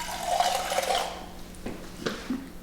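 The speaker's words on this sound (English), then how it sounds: "I'm just gonna put a little water in here to get every last bit of coconut." Water is poured from a container into a cooking pot to rinse out the last of the coconut milk, a brief splashing pour that tapers off into a few light drips and sloshes.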